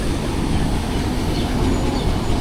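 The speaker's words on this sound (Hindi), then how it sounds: "ले जी अटक सिटी जंक्शन पहुंच गई है ट्रेन हमारी।" A passenger train on the Awam Express pulls into Attock City Junction with a low, steady rumble of rolling wagons, faint and continuous with no voices.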